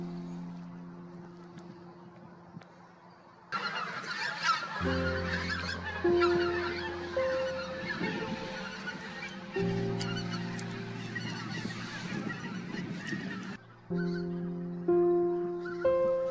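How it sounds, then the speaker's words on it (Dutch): Flock of greylag and white-fronted geese honking, repeated nasal calls overlapping in bursts, fairly close and loud over a soft outdoor background, with no talking. "Tussen de meest algemene grauwe gans bevinden zich ook meerdere koolganzen."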